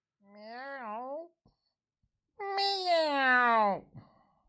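A person imitates a cat with two drawn-out, whiny meows, the second longer and higher, close and loud with a short pause between them.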